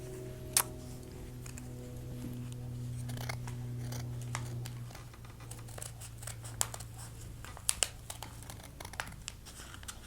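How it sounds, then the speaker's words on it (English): Scissors cut through two layers of doubled flannel fabric along a pattern line, giving a continuous soft snipping and crinkling close up, with a steady low hum in the background during the first half. "we're going to cut around this black line so that we have our pattern completely cut out"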